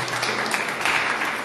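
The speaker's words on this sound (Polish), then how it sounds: "Wielkie brawa, proszę Państwa." Audience applause at a Valentine's concert in a municipal cultural centre in Myszków, a steady dense clapping wash held at even loudness for the whole short stretch.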